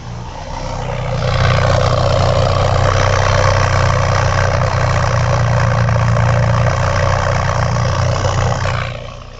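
A Mercedes-Benz M102 engine runs at a steady idle close by after a distributor rotor replacement, a low continuous rumble that builds up in the first couple of seconds and holds evenly.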